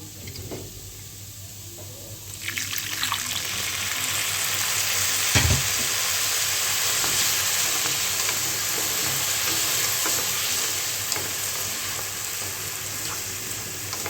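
A little water poured onto dal frying in a pan for sago khichuri sets off a sudden loud sizzle that swells into a steady, hissing fry, with stirring scrapes close by and no talk.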